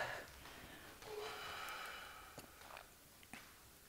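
A breathy exhale during a Pilates abdominal exercise, a soft airy rush of breath lasting about a second and a half, followed by a few faint snort-like breaths, quiet and close with no talk.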